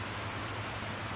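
Steady rain falls on a campsite tent as a dense, even hiss with a low rumble beneath, continuous and fairly close.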